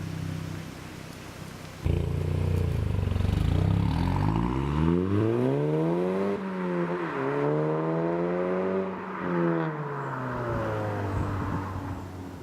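Stage 1 tuned Audi S1 accelerating hard from outside, a loud rising engine note climbing through the gears with a brief dip at a shift, sustained and close before easing off.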